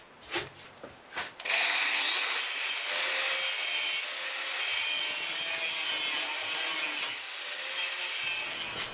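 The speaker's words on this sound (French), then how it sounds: "j'ai coupé mes 3 plaques en acier" Steel plates for bar stools being cut, a loud continuous grinding rasp that starts after a few short knocks and runs on steadily, easing slightly near the end.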